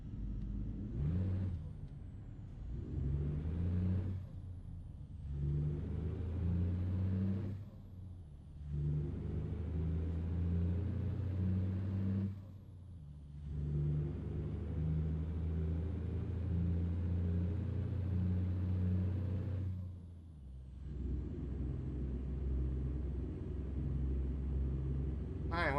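A heavy truck with 524,000 miles on it drives in American Truck Simulator, its deep diesel rumble steady and close, broken by several brief drops in sound at gear changes.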